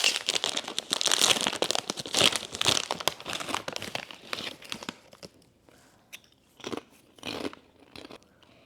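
A snack bag of hickory barbecue protein crisps crinkles loudly and continuously up close, then breaks into sparser rustles and crunchy bites with quiet gaps.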